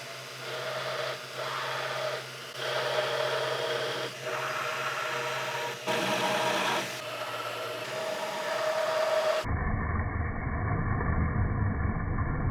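A belt grinder grinds a steel part along a template, giving a steady, loud rasping hiss with brief dips as the piece is shifted, and then a rougher, lower-pitched grinding tone near the end.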